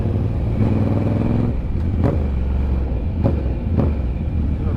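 A Ducati motorcycle rides through city traffic on Jalan Sudirman, a loud close engine drone with a rising rev partway through and several sharp clattering bursts from passing traffic, no voices heard.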